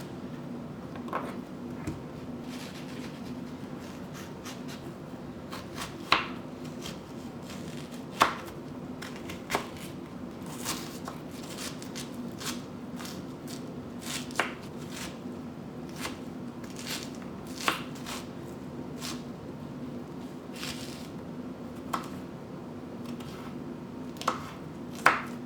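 A knife cuts half an onion into cubes on a board, giving sharp, irregular chops scattered across a long stretch over a soft background hum, close and fairly quiet.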